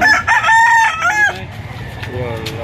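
A rooster crows loudly and close by in one drawn-out call at a poultry auction market in Lipa, followed by softer clucking and a distant crow amid farmyard background noise.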